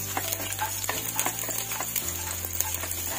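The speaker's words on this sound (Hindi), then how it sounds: "तो हमारा तेल अब गर्म हो चुका है, अब हम इसमें डालेंगे कटी हुई लहसुन।" Chopped garlic in hot oil in a wok, giving a soft, steady sizzle broken by repeated light scraping and ticking taps of a spatula over a low hum; no one speaks.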